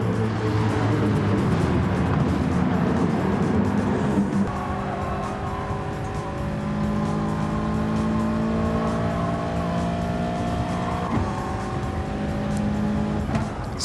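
A race car in Gran Turismo Sport at the Suzuka circuit roars loudly and steadily during a manufacturer race, its engine pitch climbing through gear changes, with a brief low voice underneath.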